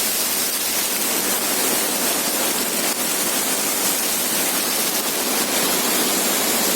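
Madkot waterfall near Munsyari, Uttarakhand, cold water pouring in a steady broadband roar that stays loud and unbroken, heard up close with no voices.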